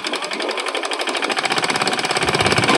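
A mini tractor stuck in the ground runs with a rapid, even chugging beat that grows louder and more pronounced as it revs, close by with no talking.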